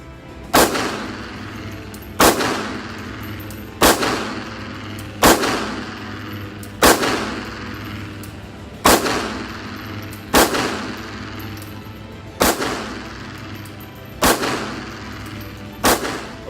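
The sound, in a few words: gunshots from a Gen 5 Glock pistol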